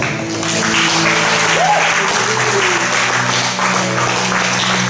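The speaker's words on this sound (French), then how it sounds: "Est-ce qu'on peut acclamer les chantres?" A church congregation applauds the singers at a worship service, steady sustained clapping that fills the room, loud and close, with faint voices underneath.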